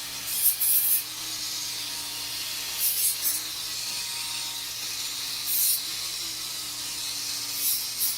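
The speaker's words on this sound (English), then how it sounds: "You're just gently buffing it out." Gentle buffing along the edges of an Essix dental retainer, a soft continuous rubbing hiss with a low motor hum and brief brighter scraping strokes repeating every couple of seconds, no talking.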